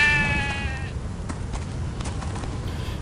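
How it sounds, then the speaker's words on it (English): A single sheep bleat from the video game Stubbs the Zombie rings out clearly at the start, then fades into soft background noise. "That's the sheep that we saw at the end of Otis's episode."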